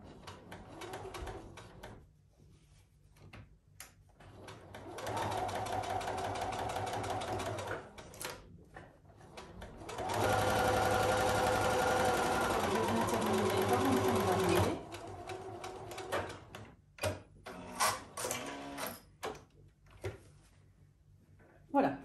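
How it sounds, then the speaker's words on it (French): Sewing machine stitching around a fabric Christmas stocking, steady mechanical whirring runs in several bursts of a few seconds, separated by pauses with light clicks and handling of fabric. "j'ai cousu tout le pourtour de ma botte"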